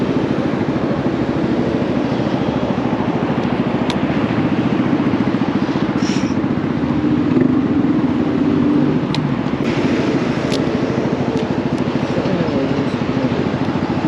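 Honda Navi motorcycle fitted with a Vance & Hines performance exhaust, running as a steady, rumbling engine drone close by that continues throughout without pause.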